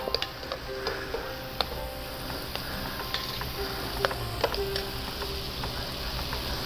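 Tomatoes frying in a little oil in a pan for a Mexican chiles en nogada dish, giving a steady close sizzle with scattered sharp clicks and scrapes from stirring.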